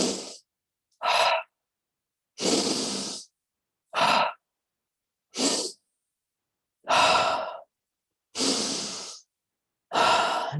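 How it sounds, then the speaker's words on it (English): Slow, deep breathing during a guided relaxation exercise, eight separate breaths of airy inhales and exhales, close and clear, with silence between each. "Deep inhale."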